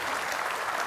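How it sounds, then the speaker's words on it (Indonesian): Applause from an audience greeting the moderator at a health development talk in Indonesia, a brief steady patter of many hands clapping, fairly distant and even, with no voices over it. "Tepuk tangan dulu untuk moderator kita."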